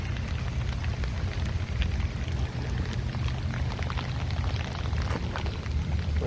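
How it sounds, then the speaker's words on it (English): Steady, dense rain mixed with hail drumming on a surface outdoors, continuous and fairly loud with scattered sharper pattering hits, no voices. "It's raining some hail even"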